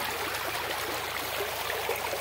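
Canal water flows through a lined channel on a village farm, a steady, close rushing and trickling wash that runs unbroken throughout.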